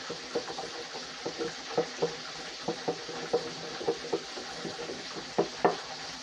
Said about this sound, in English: You just get yourself a whisk. You just mix all that goodness together.